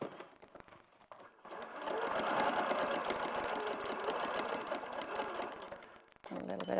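A sewing machine stitches fabric in a steady mechanical whirring run of several seconds, with quieter handling sounds before and after it.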